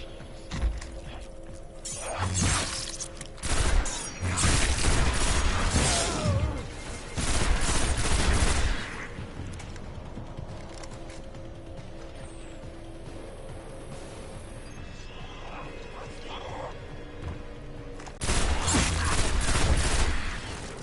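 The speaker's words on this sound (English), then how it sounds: "This weapon is awesome. Short bursts, but really powerful." A weapon fires repeated short, powerful bursts in the Destiny shooter game on PS4, loud clusters of shots separated by quieter stretches of game ambience, with no talking.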